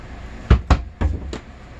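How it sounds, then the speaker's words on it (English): A laundry cabinet door on cabinetry hinges opening inside an RV travel trailer, heard as a few close, dull wooden knocks and clunks in quick succession, with no voices. "So we simply open our door like this."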